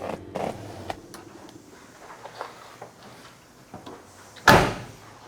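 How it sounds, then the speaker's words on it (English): A solid, heavy car door thud on a 1967 Chevrolet Chevelle SS near the end, after a stretch of quiet shuffling and soft clicks; no voices. "Door shut really solid, very, very nice."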